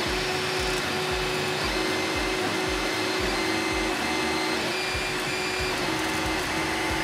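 A 3D printer lays filament onto a shirt used as a build plate, where the print curls. It gives a loud, constant whirring drone with rapid rhythmic stepper-motor pulses throughout.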